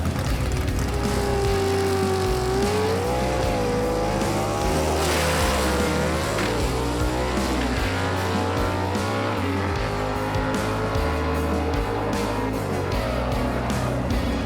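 Gasser drag race cars with race engines roaring down the strip, a loud, continuous engine drone rising and shifting in pitch with gear changes, heard from the trackside.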